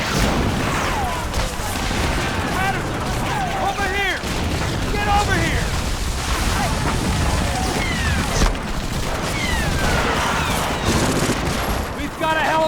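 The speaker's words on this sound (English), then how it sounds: "As bullets whiz by your head from enemy chain gun fire" Relentless machine gun fire storms across Normandy Beach in the PlayStation 2 game Medal of Honor: Frontline, dense continuous rattling bursts with whizzing bullets and booms, loud throughout under battle chatter.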